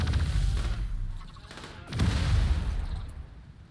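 Gunshots in the colony game Rimworld, two loud bursts of low booming fire separated by a short lull, with faint background rumble.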